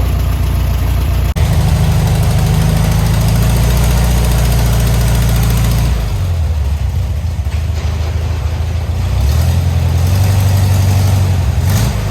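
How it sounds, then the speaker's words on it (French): A 1971 VW Beetle engine idles steadily at around 800-900 rpm, a loud, close, even low rumble with a faint knocking vibration and slight shifts in tone, without talk. "on a un ralenti qui est stable. On est à peu près à 800-900 tours"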